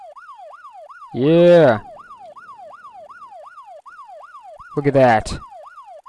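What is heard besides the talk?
police siren on a bike in video game ArmA 2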